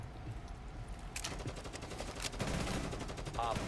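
Gunfire in the Rainbow Six Siege video game comes as faint bursts of rapid shots, with a few sharp cracks and a denser stretch of firing over steady background noise.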